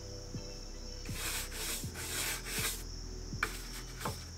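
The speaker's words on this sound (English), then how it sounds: "Once I get done scrubbing all of these" A scrub pad rubs over charred wood in rhythmic back-and-forth strokes, a soft close scrubbing sound repeated several times with light knocks, alone and quiet.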